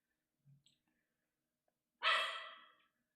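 Indoors, a dog lets out a single sharp, loud bark near the end after a quiet stretch with only a faint breath-like sound, nearby and alone without talk.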